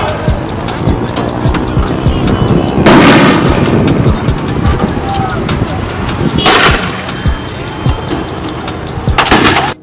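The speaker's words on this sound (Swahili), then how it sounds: "madereva bodaboda na askari katika majibizano ya risasi" Gunfire during a street clash between police and motorcycle taxi riders: three loud, sharp bursts ring out at spaced intervals over a constant, dense background din.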